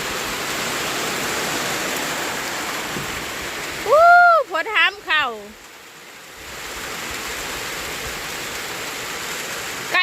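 Heavy rain pours onto a rice field at harvest time, a dense, even hiss throughout, broken briefly by a person's short vocal outburst.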